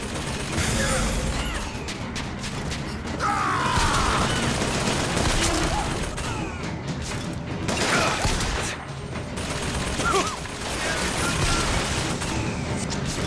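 Gunfire in the video game Bioshock Infinite mixes sharp bursts with clanking mechanical noise and busy game ambience, dense and loud throughout, with voices talking over it.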